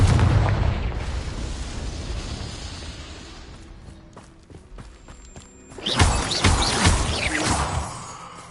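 Confringo spell explosions in the game Hogwarts Legacy: a heavy booming blast that rumbles and fades over several seconds, then a second loud burst with crackling debris and rumble, big and close with no talking.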